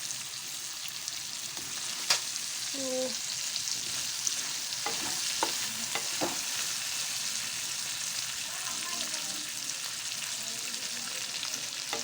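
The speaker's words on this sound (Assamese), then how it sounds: "এতিয়া তেলত দি দিম" A spice-mixed Assamese-style dish frying in hot oil, a constant bright sizzle with a few soft clinks and stirring knocks scattered through it and no talking.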